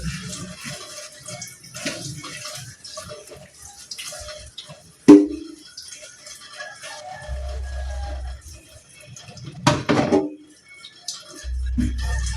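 Water runs and splashes intermittently as food is rinsed under a tap, with clinks of a bowl and faint drips between the bursts of flow.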